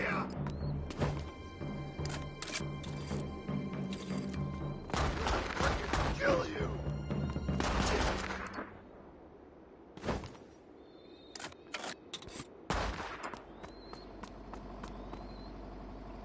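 Bursts of gunfire from a self-made shooter video game, with rapid volleys and impacts for the first half, then scattered single shots and clatters that are quieter and sparser.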